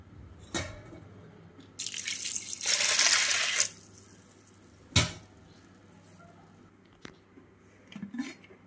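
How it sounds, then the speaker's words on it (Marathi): Water pours steadily over lentils in a pressure cooker for a couple of seconds, with scattered clinks and taps of kitchenware before and after. "डाळ बुडल इथपर्यंत पाणी घालणार आहोत।"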